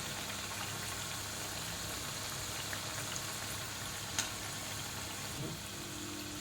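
Onion bhaji frying in oil, a soft, steady bubbling hiss at low level throughout, with a faint clink or two and no talk.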